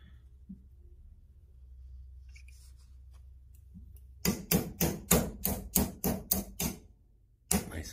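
Tools tapping out the trigger pin of a Charter Arms Undercover revolver during disassembly, a quick run of about nine sharp metallic taps in steady rhythm, then one more after a pause, close and clear over a faint hum.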